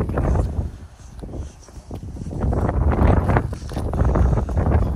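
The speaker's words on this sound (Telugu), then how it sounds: "గాలి గట్టిగా వస్తుంది" Strong wind buffets the microphone in loud, uneven gusts at Lincoln's Rock lookout in Australia, rising and falling throughout with no talking.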